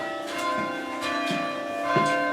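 Church bells at Stainland ring out in a steady sequence, each bright metallic strike followed by a long sustained hum, with several strokes at roughly even intervals over a continuous ringing tone.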